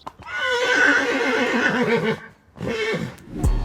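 A horse gives a loud, close whinny that wavers and trails off. A second shorter neigh follows after a brief pause, and a faint knock comes at the end.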